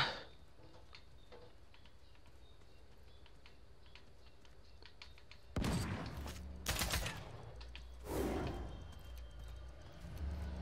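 Sniper gunfire in the video game Realm Royale: after a quiet stretch of faint ticking, three sharp, loud shot blasts land about a second or so apart, each with a short decay.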